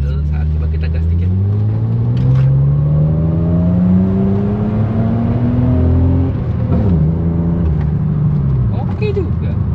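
BMW E36 engine at idle, then lightly revved, a low rumbling drone whose pitch rises slowly and dips back, with a brief blip near the end, close by while a person talks over it.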